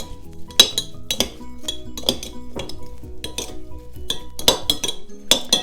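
A bowl of Thai spicy vermicelli salad with pork sausage being stirred to mix in seasonings and sugar, giving repeated close clinks and scrapes of a utensil against the dish with no talking.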